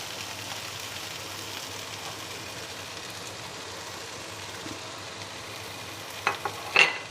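Chickpeas and fried potatoes with spices being stirred together in a pan, a soft, continuous sizzle and gentle scraping, with a couple of louder clanks of the spoon against the pan near the end.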